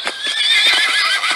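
A horse neighs in the video game Zaptiye, a loud, close whinny lasting over a second with faint hoof clatter beneath it.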